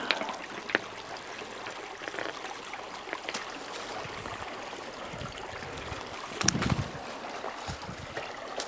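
Water trickles and splashes over agate rocks outdoors in a canyon, a steady faint wash with scattered clicks of stone and a brief louder splash near the end.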